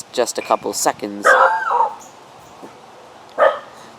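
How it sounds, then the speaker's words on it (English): A dog barks in a quick burst of sharp yips and a whining bark, then gives one more bark after a pause, close by, with someone speaking briefly at the start. "Sorry, that's the dog."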